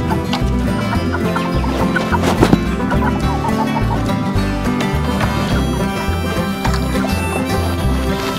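Eight-week-old Cornish Cross broiler chickens cluck steadily as a dense, close flock, with a continuous busy chatter and a brief sharper sound partway through.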